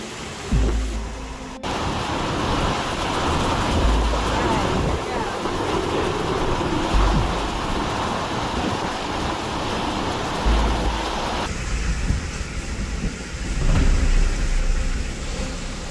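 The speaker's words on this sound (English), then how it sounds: "waves crashed into DY, Sydney, in a fierce storm" Heavy surf roars continuously with broad, rushing noise and occasional surges, as storm waves crash in strong wind at Dee Why, Sydney.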